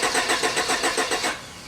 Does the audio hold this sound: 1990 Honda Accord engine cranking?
yes